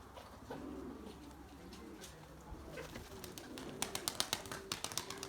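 Soft cooing of Erzurum White pigeons against a steady outdoor hum, joined toward the end by a quick run of sharp taps or clicks.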